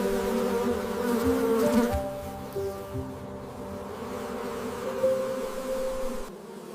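Honeybees buzz steadily and close, a dense continuous drone with no voices over it, fading slightly near the end.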